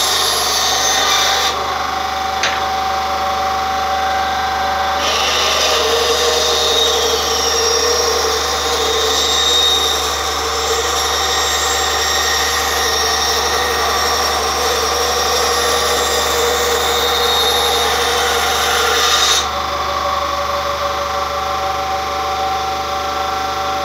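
An Einhell TC-SB 200/1 band saw cuts through wood at normal feed, a steady loud whirring rasp of the blade in the timber, with the motor hum continuing before and after the cut.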